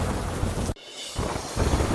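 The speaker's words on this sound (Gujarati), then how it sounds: "ડાંગ જિલ્લાના આહવા વઘઈ સુબીર તેમજ સાપુતારામાં ભારે વરસાદ" Heavy monsoon rain pouring in the Dang district around Ahwa, Waghai, Subir and Saputara in Gujarat, a dense continuous hiss broken by a brief drop in level before the downpour roars back.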